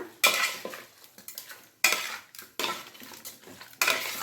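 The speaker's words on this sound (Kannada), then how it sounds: "ಚೆನ್ನಾಗಿ ಮಿಕ್ಸ್ ಮಾಡೋಣ" Spiced chicken pepper dry, seasoned with turmeric and salt, is stirred in a pan with a metal utensil, giving repeated sharp scraping and clanking strokes close by over a faint sizzle.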